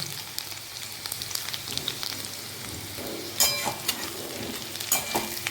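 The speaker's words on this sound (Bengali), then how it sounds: "এবার এই আলুগুলোকে একটু ভাজা ভাজা করব" Crushed potatoes sizzle steadily in hot oil, with a few sharp clinks and scrapes of a utensil stirring the pan.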